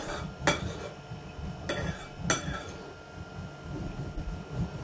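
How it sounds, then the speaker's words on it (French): A utensil stirring sauce into couscous semolina in a bowl, with repeated scraping and sharp clinks against the dish at an irregular pace. "on mélange bien pour que la sauce rentre bien dans la semoule"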